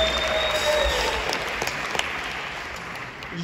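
Concert audience applauding for guest performers at a farewell show in Orlando, Florida, a steady, dense wash of clapping from a large crowd that holds throughout.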